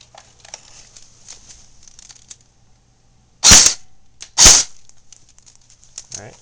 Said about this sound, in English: Alright, that was 2 shots this time, and they're actually right next to each other.